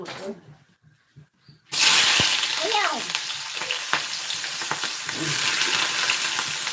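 Coconut oil sizzles loudly in a pan, starting abruptly after a quiet stretch and holding a steady broadband hiss with crackles and stirring scrapes; a voice speaks briefly near the start.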